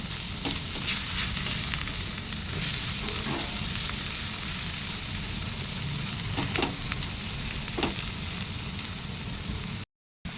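Kharkol leaf paste frying in oil, a dense, steady sizzle close up with a few soft stirring scrapes, continuous throughout before a brief dropout near the end.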